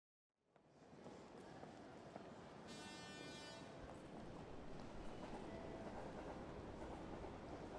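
Busy train station ambience with a train rumbling past, a steady broadband roar throughout and a brief high metallic screech partway through, with no clear talk.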